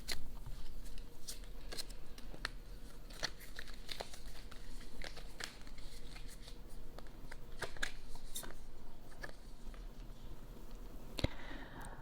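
Tarot cards shuffled by hand in a steady run of soft riffles and crisp flicks, close and fairly quiet, with no talking over it.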